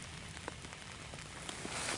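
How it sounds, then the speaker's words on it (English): Steady rain patters densely on a homemade camping tent during a hike, with a continuous close hiss of drops striking the fabric and no voices. "it's been raining for about I don't know, a good half an hour, 45 minutes"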